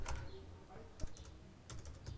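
Someone types code on a computer keyboard, quick light key clicks in an uneven rhythm with a few sharper strokes, close and fairly quiet, no voice heard.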